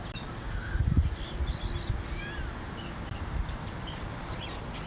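Faint, high little bird whistles and chirps, several brief sliding notes scattered over a soft outdoor background.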